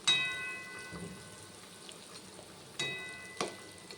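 Pieces of katla fish dropped one at a time into a hot pan of thin curry, each landing with a sharp crackling sizzle that fades into a soft, low bubbling simmer between additions.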